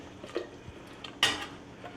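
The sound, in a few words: vegetables being put into a soup pot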